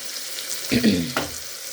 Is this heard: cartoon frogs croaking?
no